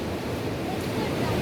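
The Seti river in Pokhara, Nepal, rushes below in a steady, loud broadband roar of flowing water, with a hint of wind on the microphone and no break.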